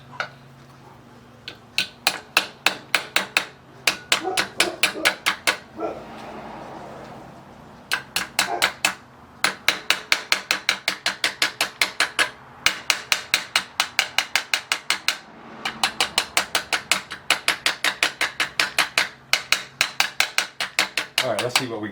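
Sharp metallic hammer taps ring out in rapid bursts of many quick strikes, separated by short pauses, as a bent metal part for a Stirling engine helicopter is shaped by hand, close and loud, with someone talking at times.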